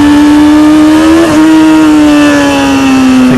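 A motorcycle engine revs high and steady while the rider slips the clutch to lift into a wheelie, the loud whine holding near one pitch and sagging slightly over a few seconds, close and alone.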